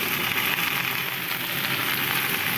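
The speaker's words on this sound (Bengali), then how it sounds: "তো দেখো এখন সবজিটা ঢেলে দেবো।" Chopped mixed vegetables for a sour lentil dish hit a hot pan and sizzle loudly and steadily, a close, continuous frying hiss with no talking.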